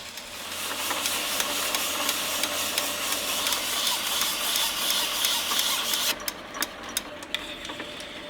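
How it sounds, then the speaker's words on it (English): Cheap metal lathe running and making odd noises, a continuous busy whirring and hissing with rapid rhythmic clicking and ticking, sounding rough and uneven, shifting into a thinner rattling tone near the end. "lathe is making all kinds of funny noises"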